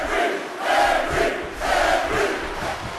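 A wrestling arena crowd cheers for Mark Henry at Saturday Night Main Event, a broad roaring swell of many voices rising and falling in waves, with loud surges about a second apart.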